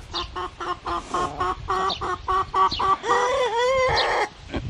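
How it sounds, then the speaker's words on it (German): A young Sussex rooster in a backyard flock crows loudly and close by. Its uneven crow comes after a run of rhythmic clucks and squawks from the hens, and several voices overlap throughout. "Und ein Hahn hat schon angefangen zu krähen."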